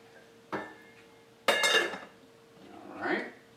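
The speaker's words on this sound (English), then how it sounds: "We're ready to drop our pasta." Dry bow tie pasta dropped into a pot of boiling salted water, heard as a couple of quick clattering pours and rattles against metal, close and moderately loud.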